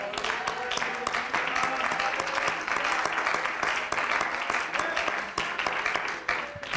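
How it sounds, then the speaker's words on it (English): A church congregation claps along during a sermon, a steady rhythmic patter of many hands, moderately loud, with some voices mixed in. "Clap your hands."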